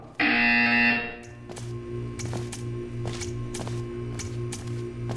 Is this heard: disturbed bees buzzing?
no